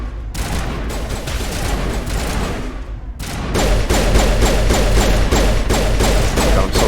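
Sustained automatic gunfire in the Mass Effect game, loud rapid bursts from close by that pause briefly near the middle and then resume heavier, no talking.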